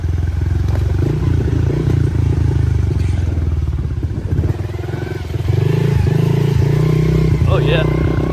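A Honda 110 small motorcycle with no clutch rides a dirt trail in Quebec, its engine droning steadily up close with shifting revs and rattles, while a rider talks intermittently over it.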